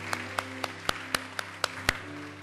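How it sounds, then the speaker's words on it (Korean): Sparse, evenly spaced claps from a church congregation during a Sunday worship service, about eight sharp hand claps in a slow steady rhythm over a low sustained hum, moderately quiet and without talk. "한번 우리 하나님께 감사의 박수를 드리겠습니다."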